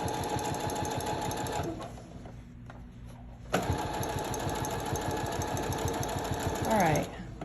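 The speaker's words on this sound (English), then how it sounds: "I'm sewing straight." Sewing machine running a straight seam with a rolled hem foot: a steady, close mechanical whir of rapid stitching that pauses for about two seconds, then resumes at the same pace.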